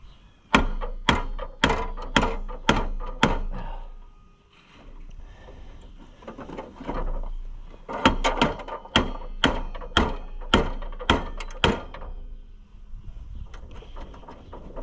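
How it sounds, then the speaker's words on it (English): Spot welds on an Oliver tractor battery tray break under repeated sharp metallic strikes, two bursts of rapid, loud hammering blows separated by a pause of scraping and clunking. "What you're doing is just breaking spot welds."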